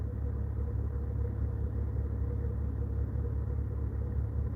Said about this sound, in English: at least 100 cars just went through